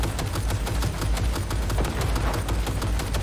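Rapid gunfire in a video game set in Night City: dense, continuous bursts of shots with steady loud rattling and no pause over the stretch.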